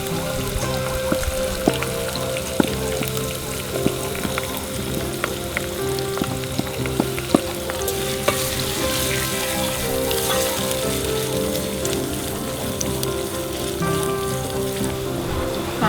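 Onion, green pepper and carrots fry in a pan for an African cassava and beans dish, a dense, continuous sizzle crackling with scattered sharp pops, steady and fairly loud with no speech.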